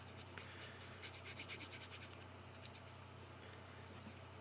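Rubbing and scrubbing against small metal contact pins while cleaning them, a soft quiet friction with a brief rhythmic burst of faster strokes midway, close and low over faint background hum.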